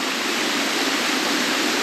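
A small waterfall pours off a rock ledge at Rattlesnake Falls in State Game Lands 221, a close, loud, constant rush of splashing water with no gaps.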